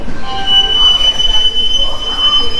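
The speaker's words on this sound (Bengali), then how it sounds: "এইমাত্র আমাদের ট্রেন কিন্তু এসে পৌঁছলো ভারতের দীর্ঘতম রেল স্টেশন খড়গপুর জংশনে" The Puri Jagannath Express (18409) pulls into Kharagpur Junction, its wheels giving a sustained high metallic squeal over a rolling rumble, loud and close for the whole stretch.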